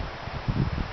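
A brief rush of wind buffets the microphone, with a low rumbling gust in the middle.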